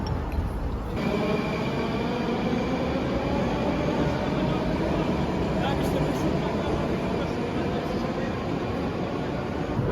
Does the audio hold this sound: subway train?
yes